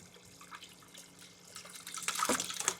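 Water runs and splashes as a cup is rinsed, starting as faint trickles and drips and growing louder and busier toward the end, with no talking.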